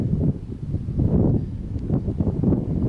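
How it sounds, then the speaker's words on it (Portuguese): Strong wind gusts across a microphone outdoors beside a large vegetable garden, a continuous low rumbling buffet that swells and dips without pause, close and fairly loud throughout. "tá ventando pra caramba"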